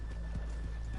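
Horses whinny and hooves clip-clop close by in a short, dense burst, the animals stopped just off a town's main street in a cowboy setting.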